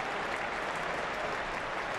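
A cricket crowd at a Test match between England and Ireland applauds a half century, steady dense clapping filling the whole moment at a moderate distance.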